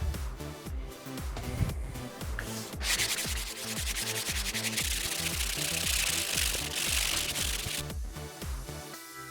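Sandpaper of 180 grit rubbing rhythmically over a freshly finished dining room surface, brisk scratchy back-and-forth strokes up close that turn into a steadier, denser rasp midway.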